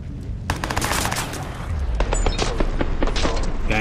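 Rapid bursts of automatic gunfire and heavy booms fill a shootout in Watch Dogs, loud and continuous with overlapping shots and no talk over it.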